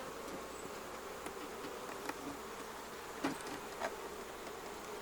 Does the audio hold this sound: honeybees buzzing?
yes